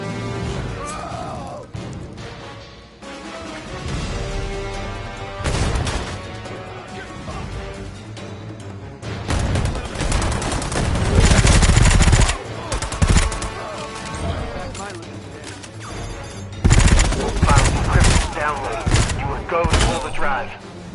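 Gunfire in the game Predator Hunting Grounds, bursts of rapid automatic shots and loud bangs crowding the mix, with shouted voices and game dialogue mixed throughout.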